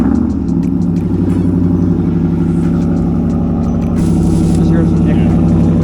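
A BMW car accelerates hard toward a stoplight, its engine rumble rising steadily and loud through the whole stretch, with a voice talking over it.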